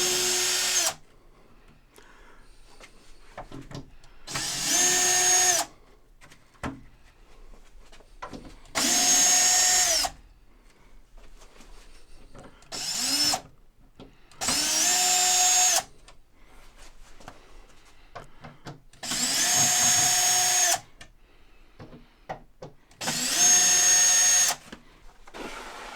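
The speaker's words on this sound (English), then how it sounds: "we're just going to undo this cleat right here with some screws." A power drill runs in six separate bursts, each a couple of seconds long, as it backs screws out of a wooden cleat on a model railroad layout. Quiet gaps fall between the bursts, and the whirring is loud and close with no talking.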